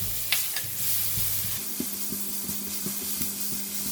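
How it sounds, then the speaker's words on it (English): Chopped garlic fries in hot oil in a hot pan, a steady crackling sizzle with a few spatula scrapes and taps, close and alone. "Because the oil is hot and the pan is hot, so the garlic cooks pretty fast."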